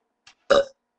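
A loud, close burp in a burping contest: a short throaty belch right after a tiny faint click, about a quarter second long, with no speech.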